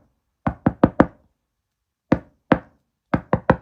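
Knuckles rapping on a sturdy 400-page hardcover book, close and crisp: a quick run of four knocks, a pause, two spaced knocks, then three more in quick succession, with silence between.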